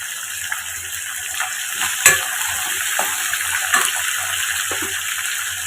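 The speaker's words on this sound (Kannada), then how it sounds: "ಇದನ್ನೆಲ್ಲ ಒಂದು 3 ನಿಮಿಷ ಚೆನ್ನಾಗಿ ಫ್ರೈ ಮಾಡ್ಕೊಳ್ಬೇಕು" Dried red chillies, mint and coriander frying in a pan: a steady soft sizzle with occasional stirring scrapes and clicks, close and fairly quiet, with no voices.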